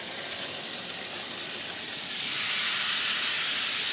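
Pan sizzling loudly as about 10 centilitres of Madeira wine hit the hot pan to deglaze it for a Christmas dish, a steady hiss that swells and grows stronger halfway through.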